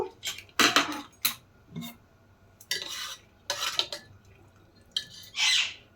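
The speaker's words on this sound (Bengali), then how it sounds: "কুকারের ঢাকনা খুলে এখন আমি দেখে নেব।" A metal pressure cooker lid is handled and opened in a kitchen, a series of separate clanks, scrapes and metallic knocks with quiet pauses between them, close and fairly distinct.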